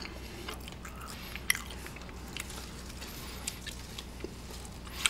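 Close-up chewing of crisp kimchi, with soft, steady mastication broken by several sharp crunching bites over a few seconds. Nobody speaks.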